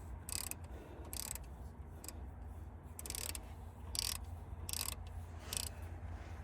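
A 3/4 ratchet wrench backs out the engine coolant temperature sensor on a 2015-2020 Chevrolet Tahoe or Silverado, making about seven short, sharp bursts of ratcheting clicks spaced irregularly over a low background hum.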